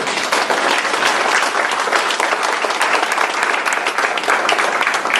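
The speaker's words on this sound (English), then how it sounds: "give the Taxi Workers Alliance a round of applause for doing this job here" Dense, sustained applause from an audience at a taxi drivers' rally, a steady wash of clapping with no break across the whole stretch.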